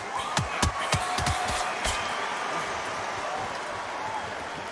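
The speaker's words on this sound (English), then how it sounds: "Really good buzz in the air tonight. This crowd waiting for something special." Steady crowd murmur fills a fight arena, a dense continuous buzz with a few sharp claps or thuds near the start, heard at a moderate distance with no clear talk on top.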